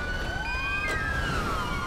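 A police car siren in Grand Theft Auto V wails up and down close by, two overlapping tones sweeping over a steady background hum.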